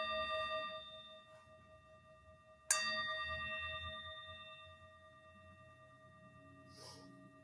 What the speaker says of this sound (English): As the bell fades, take a few deep breaths.